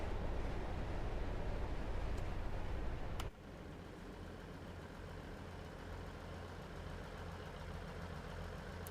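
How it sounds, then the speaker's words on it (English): Diesel train engine on the Midland Main Line in Train Sim World 3, a steady low rumbling drone that drops abruptly in level partway through, then carries on idling more quietly with no talk over it. "I do like the sound of a diesel engine."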